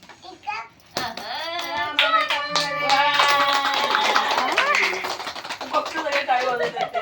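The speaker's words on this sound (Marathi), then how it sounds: "बघतो सगळे टाळी वाजवत असते." Several people clap hands at a family gathering during a child's first-haircut ceremony. Sharp, quick claps run under constant talking and a voice close by.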